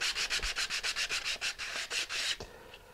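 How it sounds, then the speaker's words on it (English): Medium grit sandpaper rubs along the edges of a glued model, a brisk series of about fourteen rhythmic back-and-forth rasping strokes, close and clear, ending abruptly. "Now we're going to sand these edges to make them smooth, knock off all the high spots."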